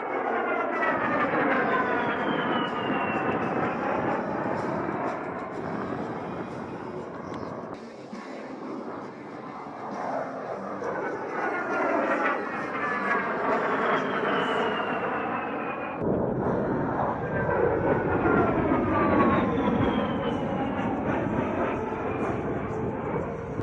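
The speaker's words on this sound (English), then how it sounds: "Now as Captain Wilson pulls the A-10 straight to the vertical, demonstrating the Warthog's power and maneuverability." An A-10 Warthog jet pulls straight up into a vertical climb during a flight demonstration, with a loud, continuous engine roar and sweeping whine that rises and falls across the pass.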